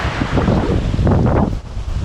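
Gusty wind buffets the microphone over the wash of calm ocean waves at a beach in Lombok where surfing lessons are under way, loud and close with no talking.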